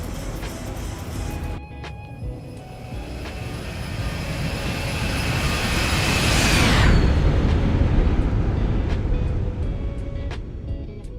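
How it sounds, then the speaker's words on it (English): A Boeing 737 airliner climbs toward cruise in the X-Plane flight simulator game, its jet engine roar loud and steady, swelling midway with a sweeping tonal shift before holding a constant drone. "we are increasing our altitude and our knots right up to cruising here in the ZIBO 737"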